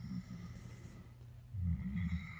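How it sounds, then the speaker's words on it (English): A dog snores while dozing next to someone indoors, with slow rumbling breaths repeating close and fairly soft, no talking over it. "why my dog is just, can you hear, snoring his head off next to me?"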